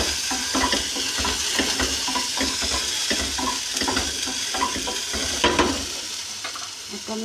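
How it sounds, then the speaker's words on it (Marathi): Okra frying and browning in a pan, with a steady close sizzle and repeated scraping, clinking stirs of a utensil against the pan throughout, no voices. "बघू शकता आपली भेंडी फ्राय होत आहे."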